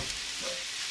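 Egg fried rice with soy sauce is stirred in a hot pan, giving a steady close sizzle and soft scraping over one brief second.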